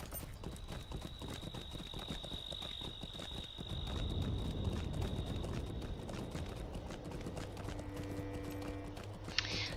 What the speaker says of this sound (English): Because finally I can use the Angmar horse somewhere.